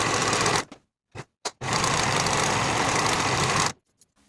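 A sewing machine stitches along the raw outer edges of skirt pocket pieces, running in a few short bursts and then one long steady stretch of loud mechanical whirring, close by with no talking.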